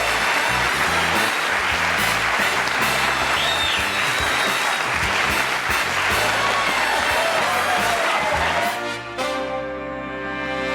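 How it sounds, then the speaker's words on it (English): A studio audience at a television talk show breaks into sustained applause, dense clapping that fills the room and then tapers off near the end. "I'm humbled by that applause."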